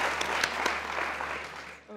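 Studio audience on a Pakistani cricket comedy show claps in a short, moderately loud burst that drops off at the end.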